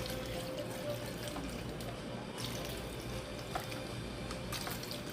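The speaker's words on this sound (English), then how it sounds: "And now I'm going to add about 1 cup of beef broth." Beef broth, about a cup, is poured into a pan holding seared steak for cheesesteak tortellini, giving a steady faint splashing, running trickle throughout with a low background hum.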